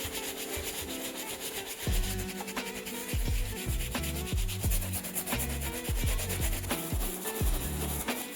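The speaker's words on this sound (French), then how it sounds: "on utilise la brosse moyenne à minima. Puis on va vraiment bien frotter sur toutes les zones" A medium brush scrubs hard across the suede of a Nike Air Max 1 Patta Monarch sneaker, making close, rhythmic rubbing strokes that rasp in repeated bursts with no talk.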